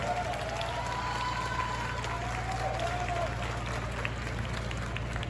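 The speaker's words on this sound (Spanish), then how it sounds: "Un aplauso, por favor." Audience at a Guinness world record event for the largest jar of strawberry agua fresca in Irapuato applauding, a steady wash of clapping and crowd noise over a low hum, with faint tonal sounds drifting through.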